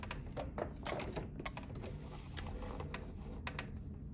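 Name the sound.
sewing machine stitching along a line on a quilt block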